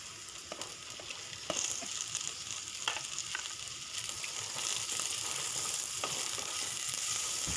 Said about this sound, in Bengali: এখন দিয়ে দেব আমি কেটে রাখা টমেটো আর কাঁচা লঙ্কাটা